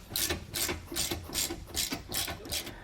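Leaf spring U-bolt nuts on a Roadmaster Comfort Ride suspension are loosened with a ratchet wrench: six rhythmic bursts of close, crisp ratcheting clicks, each a quick back-and-forth stroke.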